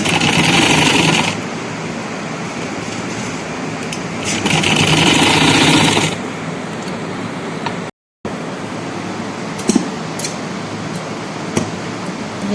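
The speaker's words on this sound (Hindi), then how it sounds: "अब ये सिलाई पूरी करके तो मैं आपको दिखाती हूँ।" A sewing machine stitches an umbrella frock in steady, loud whirring runs, pausing and restarting a few times and then leaving a quieter stretch with soft clicks; nobody speaks.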